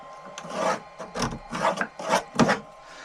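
A no-name Dremel-style rotary tool scores a line across a wooden panel under an RV bed, producing rhythmic rasping bursts, roughly five to six passes, close and moderately loud with no voices.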